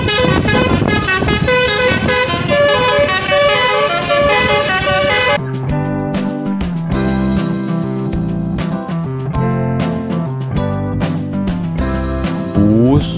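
A Tunggal Jaya 'Blackpink' bus plays its telolet horn, a loud, continuous, melodic multi-tone tune that shifts partway through to a punchier rhythmic pattern.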